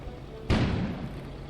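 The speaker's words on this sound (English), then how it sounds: "An explosion suddenly occurred outside." An explosion sound effect in the game Kona: a sudden loud, deep boom bursts in after a quiet lead-in, then rumbles and slowly decays.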